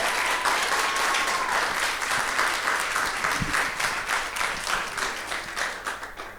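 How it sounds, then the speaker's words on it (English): Sustained applause from a crowd at a wedding speech, steady and dense throughout before slowly thinning toward the end, with no talk over it. "so I want a big round of applause for Alex and Val"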